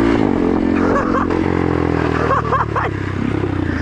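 A dually Grom mini motorcycle rides on a street, its small engine droning steadily and loud up close, with some clatter and talk mixed in.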